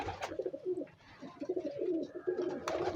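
Star pigeons cooing nearby, soft repeated throaty coos in a loose rhythm, fairly faint with a couple of sharp clicks and light background noise.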